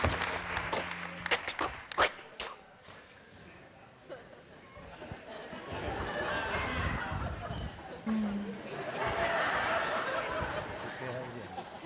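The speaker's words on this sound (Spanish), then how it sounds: "Con todos ustedes un aplauso gigantesco, por favor, para Chema Pantini y Javier Peñapinto." Studio audience on a TV show stage applauds a pair of guests, the clapping building into a broad, sustained wash in the latter half, mixed with laughter and some chatter.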